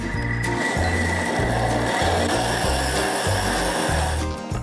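A blender blending a green smoothie with water and dates, a loud, steady whirring drone with a regular pulsing rhythm throughout, close and alone.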